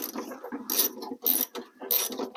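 Quarter-inch ratchet with an extension loosening bolts on a Honda Civic door during window regulator work: rapid, close ratcheting clicks in repeated bursts separated by brief pauses.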